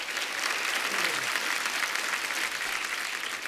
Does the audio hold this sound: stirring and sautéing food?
no